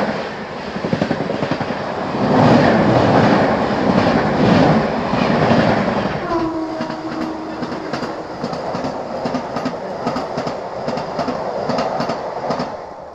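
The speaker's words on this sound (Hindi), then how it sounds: "ये लगी हुई अपनी राजनगर हावड़ा एक्सप्रेस।" A Rajnagar Howrah Express passenger train stands at an Indian railway station, giving a loud, steady rumble of rail noise. After the midpoint, sustained squealing tones rise over the rumble, with no talking.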